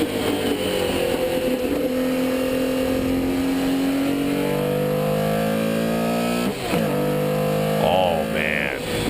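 Porsche 917K race car engine revving hard, climbing through the gears with several quick upshifts marked by brief dips before each new rising pitch, loud and continuous with some crowd or track noise underneath.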